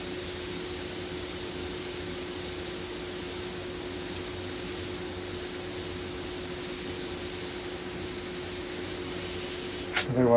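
Airbrush spraying paint on skulls, a steady, even hiss of air and paint running continuously at close range with no talking, ending with a brief bump.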